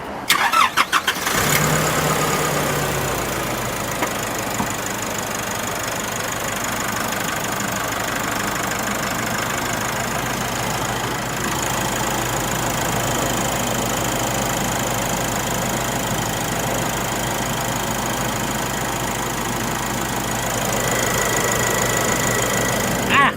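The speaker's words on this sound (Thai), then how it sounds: "ฟังเสียงเครื่องกันเลยไป" A 2019 Nissan Navara NP300 King Cab 2.5 pickup engine with 40,000 km turns over and catches, then settles into a steady, close idle with a slight knocking rumble that continues throughout.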